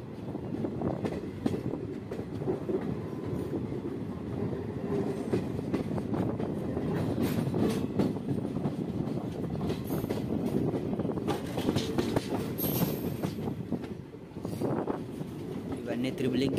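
The Kakatiya Express rumbles into Elgur railway station, a continuous dense roar of wheels and carriages with rattling clatter throughout, heard from on board at close range.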